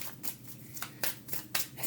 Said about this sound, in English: Not even going to look. Going to keep shuffling.